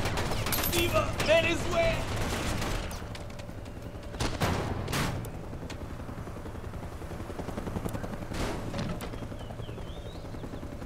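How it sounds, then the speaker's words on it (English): Heavy automatic gunfire and bursts rattle through a firefight in the video game Mercenaries 2, with a helicopter nearby, loud and dense at first and then thinning to scattered shots under a shouting voice. "Senor Acosta, we are taking heavy fire."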